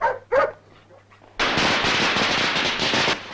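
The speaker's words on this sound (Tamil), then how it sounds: "பட்டாசு வெடிக்கிறாங்களா?" Two short barks come first, then a rapid, loud string of firecrackers crackles continuously for nearly two seconds nearby.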